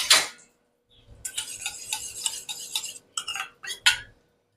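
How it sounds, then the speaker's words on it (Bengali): A spoon stirs asafoetida into water in a small metal vessel while cooking, giving a few quiet clinking and scraping strokes in short bursts with brief pauses between them. "হিংটা আমি জলে গুলে দিচ্ছি।"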